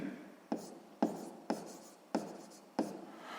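Pen writing on paper in five regular, close strokes, each starting with a soft tap and trailing off, with no talk.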